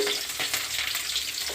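Green chillies fry in hot oil for a capsicum curry, giving a brief, steady crackling sizzle with light stirring scrapes close by.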